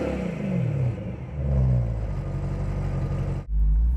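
Supercharged 4-liter V8 in a 2013 BMW M3 revving inside a tunnel, loud echoing rises and falls with a brief lift-off dip, then a deep booming roar returning at the end.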